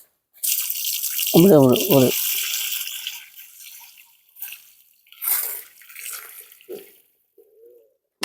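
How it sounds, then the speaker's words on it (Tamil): Water poured from a container onto the soil around the base of an arecanut tree on a farm, a steady splashing pour lasting a couple of seconds, followed by softer trickles, with people talking nearby. "இன்னைக்கு வந்து தண்ணி ஊத்தி பார்க்கலாம்"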